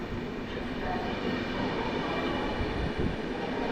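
A passenger train departs Warszawa Zachodnia station, a steady loud rumble of rolling wagons with faint wheel clatter near the end, close by and without speech.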